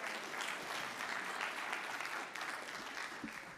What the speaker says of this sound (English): Let's give a round of applause to Marcus